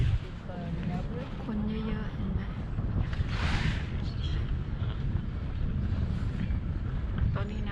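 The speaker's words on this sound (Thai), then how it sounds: "ลมพัดแรงมาก" Strong wind gusts over the abbey island of Mont Saint-Michel in France on a rainy day, buffeting the microphone with a steady low roar while someone talks over it.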